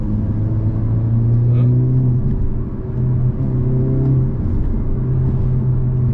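A deep, steady Hyundai Avante N exhaust rumble idles and burbles low and close on a public road, swelling slightly at moments with a faint throaty pulse.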